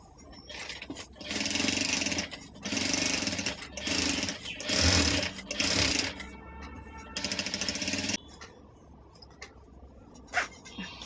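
A sewing machine stitching a bag made from an old top runs in several short bursts of close, rattling stitching separated by brief pauses, followed by quieter handling sounds.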